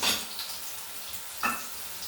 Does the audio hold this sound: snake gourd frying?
yes